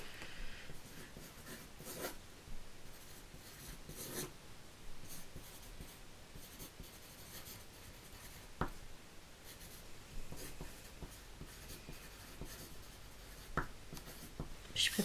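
A pen writes on small slips of paper, with steady close scratchy strokes and occasional louder taps and rustles running throughout, and no talking.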